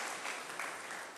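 Church congregation applauding at a Sunday worship service to encourage members departing for Atlanta; steady, dense clapping fills the room throughout.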